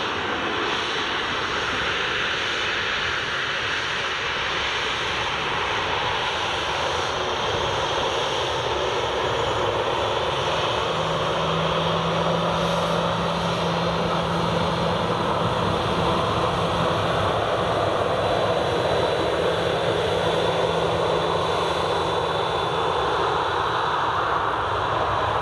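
Ryanair jet airliner departing Edinburgh Airport bound for Palermo, a sustained loud engine roar with a broad rushing wash and a steady tonal hum, heard from a distance with no voices.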